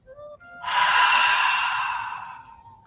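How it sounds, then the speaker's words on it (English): A person exhales through an open mouth with a voiced ah during a morning breathing exercise, one long sigh that swells quickly and fades over about two seconds, close and clear. "Now open your mouth, and as you breathe out, say ah"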